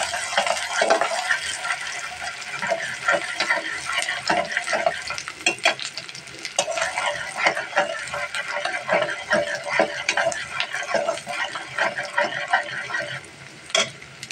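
Chopped onions sizzle and crackle steadily in hot oil in a pan as they brown for a boal fish curry, close up and continuous, with spoon stirring scrapes throughout.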